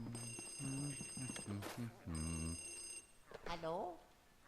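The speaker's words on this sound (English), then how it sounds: "And then another phone will ring." A telephone rings in the video game Luigi's Mansion, sounding as a quick series of electronic ring tones over game music, followed by a rising chime as the call is answered.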